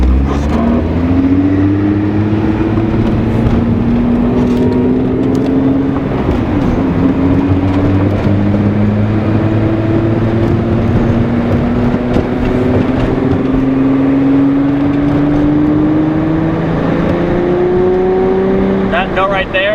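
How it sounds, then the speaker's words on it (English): A VW Golf Mk3 with a VR6 engine hums loudly and steadily at close range, its pitch climbing slowly under load with a few dips, a constant droning note filling the whole stretch. "That note right there, that's the best note for VR6."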